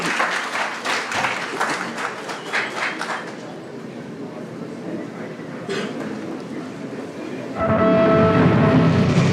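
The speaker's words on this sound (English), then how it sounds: "Can we have a huge louder round of applause?" Audience at a short film festival giving a round of applause, a dense burst of many hands that fades over several seconds, then a louder tonal passage with voices takes over.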